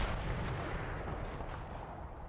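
Dense, continuous gunfire and heavy booms from the World War II tactics game Combat Mission Red Thunder roll through a battlefield exchange without a pause. The volley stays loud and steady, with no talking.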